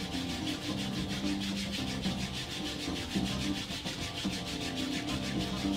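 Palms rub briskly together to build heat during a yoga session, a continuous close, soft swishing friction over a faint background drone.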